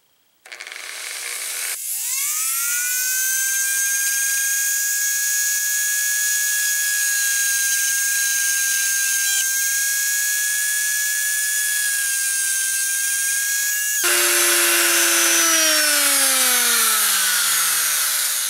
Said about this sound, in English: I'll just take my drill and I'll just keep going around that hole